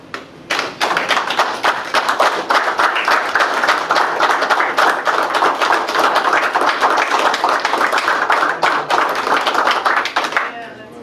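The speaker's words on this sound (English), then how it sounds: "Please join me in a round of applause for Sarah." An audience at a city common council meeting in Jefferson, Wisconsin applauds for the municipal clerk, a steady burst of clapping that starts just after a second and continues evenly before tapering at the end.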